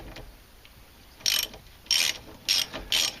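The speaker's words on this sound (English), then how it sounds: "12mm bolt at the side of the strut here." Ratchet wrench loosening a 12mm strut bolt on a 1999 Suzuki Swift rear suspension, four short bursts of quick clicking, close and clear with quiet gaps between.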